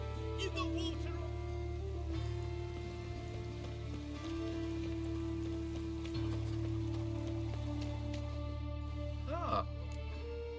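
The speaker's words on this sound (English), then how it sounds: "Lots of fuss over lots of rain." Steady rain falling in The Witcher 3 game world, a continuous wash of drops under sustained tonal game music and ambience, with a brief voice near the end.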